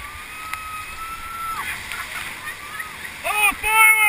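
Raft paddles splash and dig into the water of the Menominee River during a July rafting trip, a steady wash of sloshing with shouted voices over it and louder splashes near the end.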